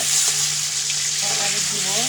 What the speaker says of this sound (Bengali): আলুটা ভাইজে নিতেছি, একটুখানি একটু লাল লাল করে ভেজে নিব।